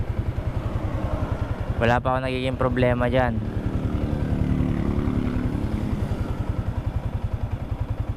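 Steady low rhythmic putter of an idling 2023 Yamaha Sniper 155R motorcycle engine at 25,000 km, close and continuous, with someone speaking briefly over it.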